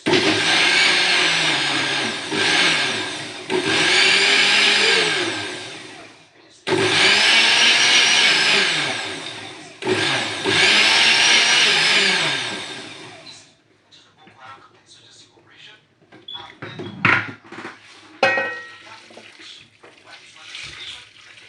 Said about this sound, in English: I'm going to run it over in the blender to give it a good mix.